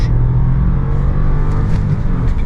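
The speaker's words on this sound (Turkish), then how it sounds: "Dip gaz yapıyorum. 6000'e kadar devir çeviriyor." A 2023 Dacia Jogger engine held at full throttle, a loud, steady droning rev close by with a strong low hum throughout and no talk over it.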